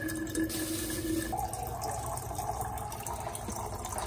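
Tap water runs into a bottle as a steady, close rushing stream whose tone climbs as the bottle fills, with a few drip-like splashes.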